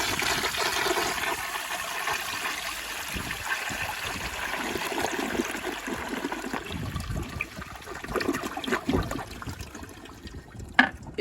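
A 1981 Eljer toilet on a flushometer flushes at full pressure, a steady rush of water running throughout with gurgling and splashing toward the end.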